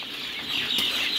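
Egyptian breed chickens cluck at a poultry farm that breeds layer chicks, a steady close murmur of fowl with a brief flutter-like rise midway.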